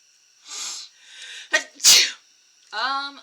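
Someone nearby lets out a single loud sneeze, preceded by a couple of sharp breathy inhales and followed by a short vocal sound.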